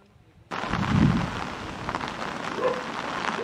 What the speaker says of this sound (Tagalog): dahil nga po sa halos walang tigil na pag-ulan ngayong araw na ito